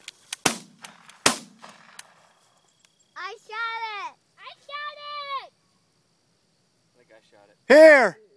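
Two sharp shotgun blasts ring out in the open while hunting chukar, loud and close within about a second, followed by excited children shouting.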